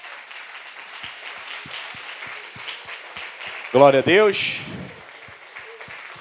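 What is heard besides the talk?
church congregation applauding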